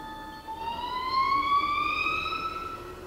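Spindle of a 2008 Haas TL-4 CNC lathe winding up in the high range, a steady tonal whine rising smoothly in pitch over a few seconds with no voices.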